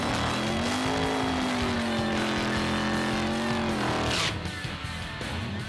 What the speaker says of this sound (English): I would hit my ignition switch and hit my starter button,